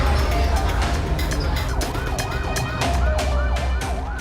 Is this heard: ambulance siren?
yes